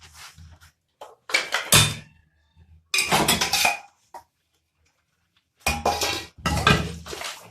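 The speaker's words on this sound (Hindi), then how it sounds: "तो बर्तन धोते हैं," Dishes being washed after breakfast at home: clinking and clattering of pots and plates in short bursts separated by quiet pauses.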